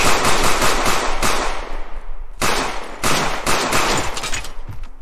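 Rapid automatic gunfire from a first-person shooter game fires in loud, dense bursts with brief pauses between volleys, close and continuous.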